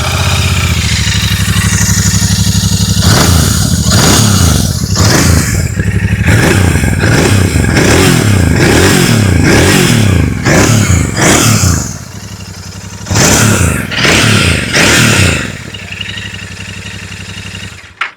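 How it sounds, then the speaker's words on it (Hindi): A Royal Enfield Continental GT 650 twin's exhaust barks through a string of sharp, loud revs that rise and fall in quick succession over a rumbling idle, pauses briefly, then revs again a few times before cutting off. "अभी सुन लेते हैं GT 650 की एग्जॉस्ट नोट।"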